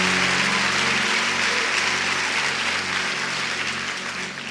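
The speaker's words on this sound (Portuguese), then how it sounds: "pode aplaudir a Ele." An audience claps steadily in a dense wash of applause that slowly fades toward the end.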